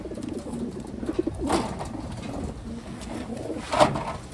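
Pigeons coo softly nearby in low, throaty bursts, a few separate calls over a quiet background.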